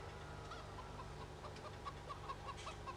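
Chickens cluck faintly on a farm, with a series of short, soft clucks scattered over steady background noise and no talking.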